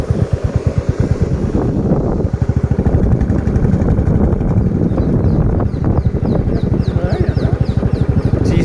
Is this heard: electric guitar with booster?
no